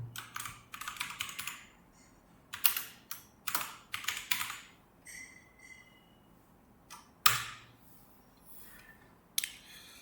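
Python code is typed on a computer keyboard in quick clattering bursts of keystrokes, with pauses between runs and a few sharper single key hits, close and clear, with no talking.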